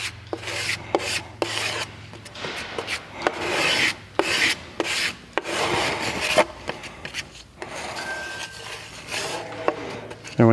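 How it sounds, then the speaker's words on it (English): Putty being mixed for a leather repair, a close, soft series of rubbing and rasping strokes in irregular bursts, alone with no talk. "I'm mixing up a little bit of putty."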